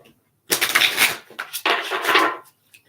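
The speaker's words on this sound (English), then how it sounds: "let's do one more shuffle here." Two quick riffling shuffles of a tarot deck, crisp and close, separated by a short pause.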